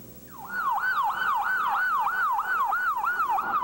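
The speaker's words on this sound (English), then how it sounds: "The scream of ambulances." Wailing ambulance sirens at a 1995 bombing disaster scene in Oklahoma City, a steady rising-and-falling electronic wail repeating about every half second, loud and close, with a fainter second siren layered above it.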